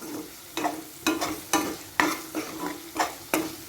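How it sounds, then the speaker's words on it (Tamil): Onions sauté in a pan while a spoon stirs them in steady strokes, about seven or eight scraping pushes over a constant soft sizzle, close and clear, with no talking. "வெங்காயம் நல்லா வதங்கிட்டு இருக்கும்போதே இதுக்கு தேவையான அளவு உப்பு கொஞ்சம் ஆட் பண்ணிக்கிறேன்"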